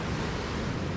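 Ocean swell and surf rushing steadily, mixed with heavy wind buffeting the microphone, heard from a kayak on warm water.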